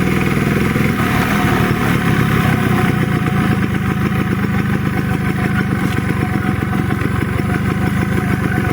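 A Suzuki RC100 motorcycle engine in good running order, a loud, close, continuous two-stroke-style putter with a steady, even rhythm throughout.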